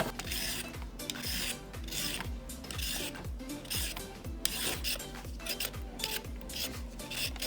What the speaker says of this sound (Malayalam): അടുത്തത് ഞാനിനി ക്യാരറ്റിനെ ക്ലീൻ ചെയ്തെടുക്കുകയാണ്.